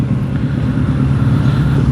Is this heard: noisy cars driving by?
yes